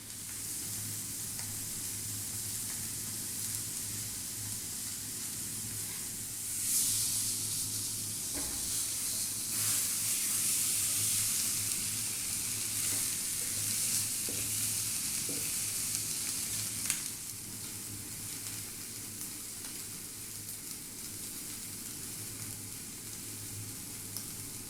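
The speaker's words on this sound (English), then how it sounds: "These fish have been dry frying in there." Whole hamam fish fry in olive oil in a pan with a steady, bright sizzle and hiss that swells briefly in the middle and then settles, continuous and close with no speech.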